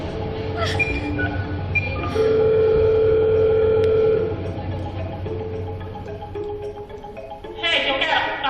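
A steady telephone dial tone hums for about two seconds after a call is hung up, with a ringing phone beforehand and background voices and ambient noise throughout.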